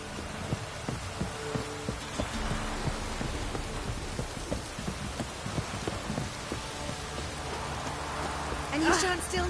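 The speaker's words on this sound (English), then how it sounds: "Looks like rain." Rain falls steadily in a PS4 video game, a continuous soft patter with faint scattered drops and low thudding throughout, a brief higher sound rising near the end.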